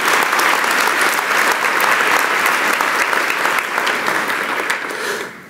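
Loud, sustained applause from a big church congregation fills the air, holding steady before fading out at the end.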